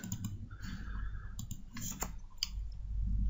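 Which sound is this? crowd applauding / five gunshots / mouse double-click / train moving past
mouse double-click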